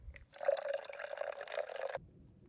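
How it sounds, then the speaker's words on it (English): Liquid from a can of beans is poured into a cup in a home kitchen, making a brief, faint, steady trickle that lasts under two seconds and is heard alone without talk. "I'm just pouring the juice from the beans in there."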